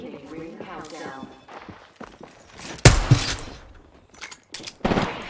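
Gunfire bursts in a shooter game, a sharp close blast followed by scattered shots and impacts under in-game voice lines and ambient noise.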